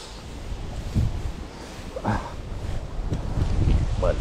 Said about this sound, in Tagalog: Yung grabe yung hangin.